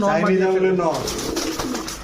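Pigeons at a pigeon market coo nearby in a short, low, rolling call, with someone talking over and after it.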